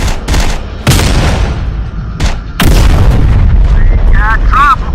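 Heavy gunfire and booming explosions in the video game Terminator Dark Fate Defiance, loud repeated blasts and rattling shots with a few short bursts of electronic chirping near the end and voices mixed in.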